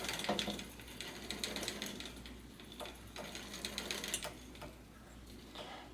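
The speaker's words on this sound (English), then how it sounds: "I get my pedal wrench here and just pedal this backwards to tighten it on." A bicycle crank is pedalled backwards with a pedal wrench while fitting a square taper crank set, giving a quiet, continuous rapid ticking of the freewheel ratchet at close range.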